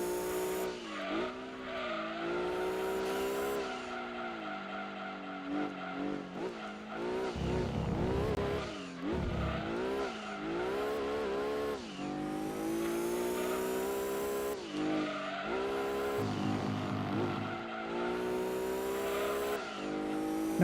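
Race car engine and tyres in the PlayStation game Gran Turismo 2 during an Apricot Hill endurance race: continuous loud engine revving with rising and falling gear-change pitch, plus bursts of tyre squeal through corners, running throughout.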